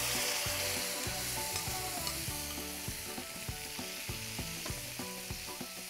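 Whisked yogurt goes into a hot, sizzling pan for Rajasthani papad gathiya curry, giving a loud, steady frying hiss with stirring and scraping throughout, mixed with tonal, ringing sounds.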